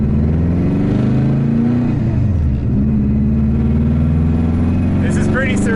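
A WRX-swapped Subaru GC8 driving on the street, loud steady engine drone inside the car with pitch rising and falling through gear changes, while people talk over it.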